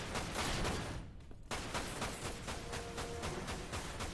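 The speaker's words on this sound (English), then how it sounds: "the recoil on this machine gun" Rapid machine gun fire in Dirge of Cerberus: Final Fantasy VII, a dense, loud stream of shots that breaks off for a moment in the middle, then resumes just as heavily.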